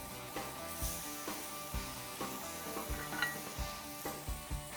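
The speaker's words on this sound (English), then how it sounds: "So I'm just going to give a quick sear on the side here and we are ready to go." Tenderloin steak getting a quick sear in a pan, faint sizzling with repeated soft thumps and scrapes of a utensil turning and pressing the meat, close and low in level, no speech.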